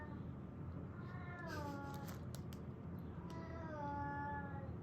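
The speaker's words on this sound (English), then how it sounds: "Do you hear my cat?" A cat meows twice, drawn-out and whiny, fairly faint over a low steady hum with a few soft clicks.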